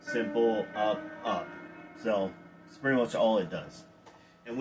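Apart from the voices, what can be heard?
None of the usual background noises is heard.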